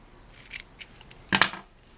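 Two quick snips of scissors cutting crochet yarn, the second pair sharper and louder, with quiet gaps between.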